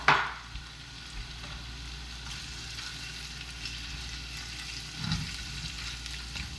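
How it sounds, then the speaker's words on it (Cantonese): About two tablespoons of minced garlic sizzle in a hot wok with three tablespoons of oil, giving a steady, close frying hiss with a sharp burst at the start and a brief stirring scrape near the end. "個鑊熱咧，我就首先爆香2湯匙嘅蒜蓉"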